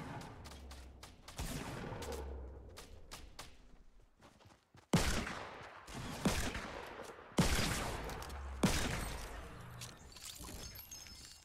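Video game gunfire from a team shooter, with several sharp, loud shots spaced a second or two apart among scattered quieter shots and background game noise.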